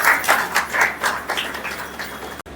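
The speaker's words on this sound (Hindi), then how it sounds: "चलिए अपने लिए ताली बजा लीजिए" Audience at a Brahma Kumaris class in Trans Yamuna, Agra, clapping for themselves: a crowd's steady, fairly close applause with dense overlapping claps lasting a couple of seconds, then cutting off abruptly.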